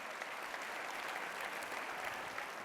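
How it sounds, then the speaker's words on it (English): Guests at the NMSDC 2018 awards banquet clap for the winners, a fairly faint, distant wash of steady applause with no speech on top. "please give them all another round of applause"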